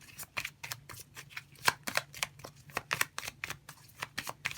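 Tarot cards being shuffled by hand, a steady series of crisp riffling and flicking bursts repeating at a quick, even rhythm, close and alone.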